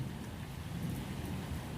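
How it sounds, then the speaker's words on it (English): Fine drizzle falls on a forest canopy as a steady, even hiss with a soft low rumble beneath it. It is continuous and unbroken, with no voices. "Only a fine drizzle remains whispering across the forest roof, soft as breath"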